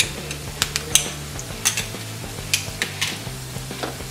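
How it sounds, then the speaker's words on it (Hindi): Onions fry with crushed ginger-garlic paste in a pan for veg Schezwan noodles, a loud close sizzle punctuated by rhythmic metallic clinks and scrapes of a spatula stirring. "प्याज को हम 1-2 मिनट के लिए फ्राई कर लेंगे। साथ में हम इसमें जिंजर गार्लिक का पेस्ट डाल लेंगे।"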